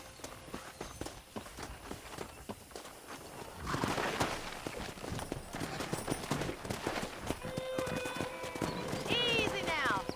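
Hooves clip-clop steadily through a Red Dead Redemption ranch scene as horses are wrangled, growing louder midway, with a horse's whinny rising near the end and a voice speaking over the action.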